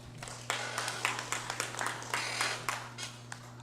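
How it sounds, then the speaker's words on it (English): Scattered applause from an audience at a formal legislative session, honoring a senator; uneven claps with sharp spikes over a steady electrical hum, fairly close and moderately loud, no one speaking. "Let's give him a round of applause, please."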